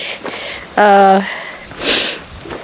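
A person with a runny nose sniffs a couple of times, short breathy snuffles outdoors at a campsite around sunset, with a brief bit of voice between them.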